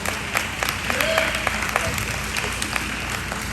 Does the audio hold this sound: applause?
yes